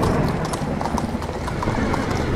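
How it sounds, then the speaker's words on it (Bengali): Hooves of a horse-drawn carriage clip-clop in a quick, steady rhythm, loud and close, with rain pouring around them in a dramatized scene. "এতক্ষণে ঘোড়ার গাড়ির আওয়াজটা আরো বেড়ে উঠেছে"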